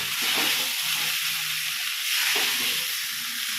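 Sago and fried potatoes cook together in a hot pan, giving a steady close sizzling hiss with soft stirring scrapes and no voices.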